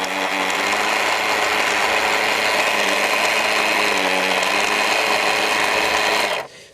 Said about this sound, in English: you may or may not be able to hear me over the sound of the motor